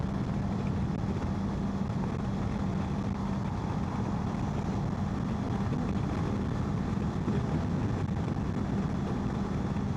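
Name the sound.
Kawasaki KLE 500 motorcycle riding uphill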